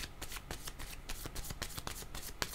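Tarot cards are shuffled close by in a steady, papery riffling that lasts a couple of seconds, soft and alone without any voice.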